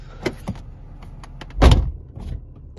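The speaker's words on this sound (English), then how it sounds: "So when I go to open the door, window slides down." A BMW E46 door slams shut with a solid low thud, amid small clicks and rattles of the door lock mechanism, followed by a faint electric window motor whirring as the glass slides back up.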